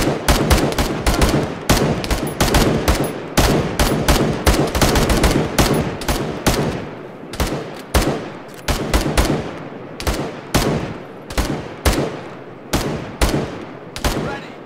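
Rapid volleys of suppressing gunfire in a battlefield video game, loud and close, firing in dense bursts with short gaps and continuing steadily throughout.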